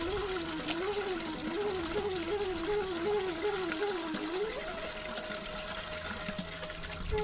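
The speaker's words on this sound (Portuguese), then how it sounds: "E agora o menino Kevin vai tirar um bocadinho de água para tirar lá a água para a fotografia." Water from the Bica Santa spring in Cercal do Alentejo, Portugal, runs steadily into a container, a continuous close trickle and splash with a wavering pitch as the vessel fills, alone without talk.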